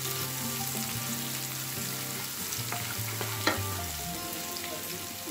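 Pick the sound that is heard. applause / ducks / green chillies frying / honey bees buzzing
green chillies frying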